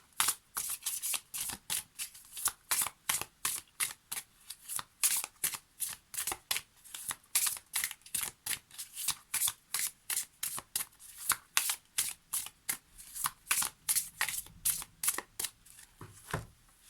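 Oracle cards for a tarot reading are shuffled close up in a steady run of quick, crisp riffling bursts, about two to three per second, continuing for the whole stretch with no talking.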